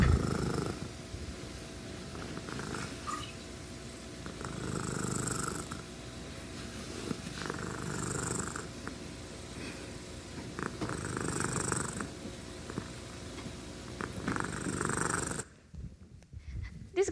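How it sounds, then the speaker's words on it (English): A domestic cat purrs steadily while being patted on the body, close to the microphone, in soft rhythmic cycles with no voices, stopping abruptly near the end. "when you pat cats on the body, they speak in a soft voice, goro goro, and express contentment."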